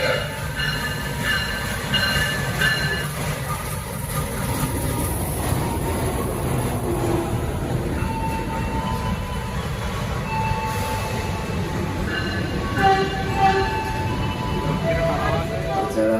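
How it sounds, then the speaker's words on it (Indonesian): Malabar train at Tugu Yogyakarta station, heard as a steady rumble of rolling cars with scattered squeals and clicks from the wheels, continuous and fairly loud throughout, with no talking. "kita persiapan naik kereta api Malabar ya di stasiun Tugu Yogyakarta"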